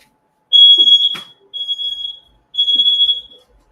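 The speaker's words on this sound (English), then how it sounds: "The fire alarm going off." An indoor fire alarm sounds three loud, piercing electronic beeps in a row, each lasting about a second with short silent gaps between them.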